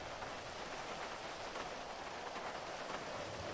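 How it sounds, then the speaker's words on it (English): Steady rainfall in the GTA V game world, a dense, even hiss of drops falling without pause, moderately loud and close, with no voices over it. "you're getting rain in your ears, you're getting rain in your mouth"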